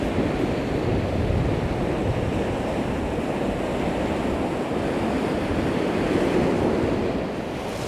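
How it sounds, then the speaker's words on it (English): Surf breaking on a beach along the Bristol Channel on a windy day, a loud continuous roar of waves and wash with gusting wind buffeting the microphone, no voices. "just leaving that lovely bit of surf there"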